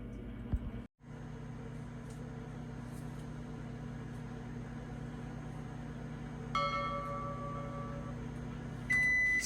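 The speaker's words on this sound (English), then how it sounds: "put it in the microwave and roast it for about 5 minutes" A microwave oven hums steadily while roasting peanuts, with a low constant drone, a brief dropout near the start, and faint electronic beeps toward the end.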